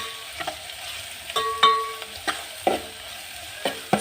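Ginger and garlic fry in a pan while a spatula taps and scrapes against it in a series of sharp metallic knocks over a soft background sizzle, with no voices.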